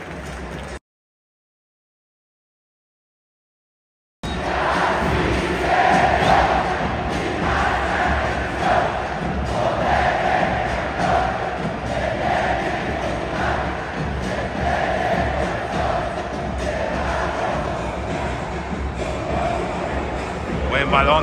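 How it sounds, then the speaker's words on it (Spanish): A stadium crowd at a Toluca versus Pumas football match roars and applauds for Alexis Vega, a broad sustained swell of cheering with a commentator's voice over it, after a brief silent gap at the start. "escuchen los aplausos para Alexis Vega"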